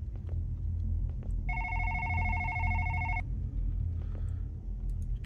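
Telephone ringing in the horror video game One Late Night, one steady electronic ring of nearly two seconds over a low rumbling background.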